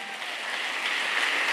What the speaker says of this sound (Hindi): जोरदार ताली बजाओ टाइगर के लिए